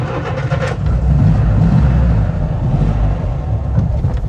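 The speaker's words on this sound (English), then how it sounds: "let's start the engine" An old 1946 Moskvich 401 car engine cranks and catches, then settles into a loud, steady, rumbling idle close by.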